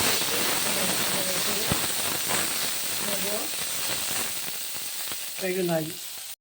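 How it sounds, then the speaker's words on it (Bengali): Onions hissing and sizzling in hot oil as they are stirred, a close, continuous steamy crackle with brief faint voice sounds in the background. "পেঁয়াজটা একটু নেড়ে চেড়ে নিয়েছি।"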